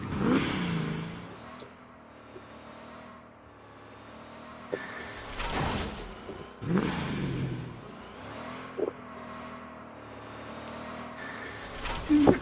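A vehicle engine revs and accelerates in a video game, rising and falling in several surges over a steady whirring drone, with no talking.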